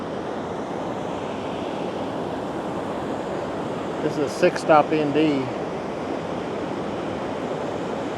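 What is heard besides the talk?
waterfall water rushing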